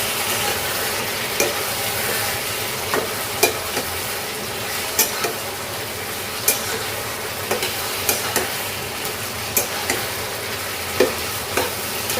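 Desi (country) chicken curry frying over high heat on a stovetop, a steady broadband sizzle with regular spoon-stirring scrapes and clicks every second or so, close and moderately loud, with no talking.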